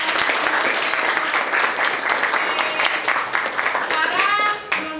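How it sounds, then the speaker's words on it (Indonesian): Classroom of pupils clapping for themselves at a teacher's prompt, a dense steady burst of hand claps for about five seconds with children's voices chattering over it toward the end. "kita beri tepuk tangan untuk diri kita"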